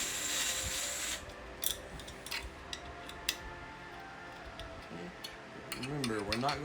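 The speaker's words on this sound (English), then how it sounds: "Tighten the back ones." Metal ticks and small scraping clicks of a tool tightening the rear bolts on an 18-inch Fiskars StaySharp reel mower electric conversion kit, quiet and intermittent over a light background hum.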